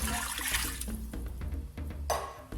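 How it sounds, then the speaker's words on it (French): Water poured from a container into a cooking pot holding meat for saka saka cassava leaf stew, a close, full splashing gush that surges again near the end, with no speech. "J'ajoute de l'eau"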